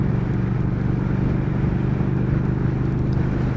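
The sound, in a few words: 2019 Triumph Speed Twin motorcycle riding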